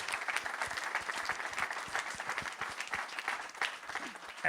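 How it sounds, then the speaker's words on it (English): Audience applause at an equestrian press conference honoring Global Champions League riders: dense, steady clapping from a seated crowd, continuous and moderately loud throughout, with no talk over it. "Round of applause for our Global Champions League riders."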